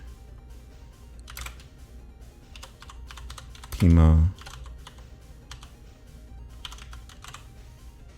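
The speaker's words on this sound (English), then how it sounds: "I'm so slow at typing" Computer keyboard typing runs through a room with steady background noise, scattered key clicks and short bursts of taps, briefly covered by a loud low thump partway through, with a person talking nearby.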